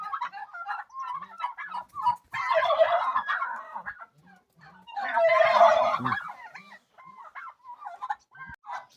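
Turkeys gobble in two loud, rattling bursts, with softer clucking and chatter from the flock in between, fairly close.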